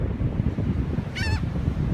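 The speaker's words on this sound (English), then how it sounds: "Look at that moon up there, and look at all these seagulls." A single gull call rises briefly above steady wind rumble and surf-like low noise at an outdoor spot swarmed by seagulls, a short wavering cry heard once near the middle.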